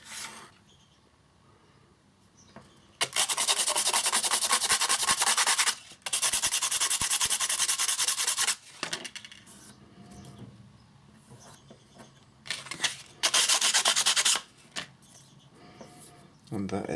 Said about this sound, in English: So we'll just use a little bit of sandpaper for that.